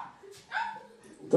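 At a wedding party game, a person imitates a dog with short vocal yips and a bark-like cry, brief and close, ending in a sharp burst.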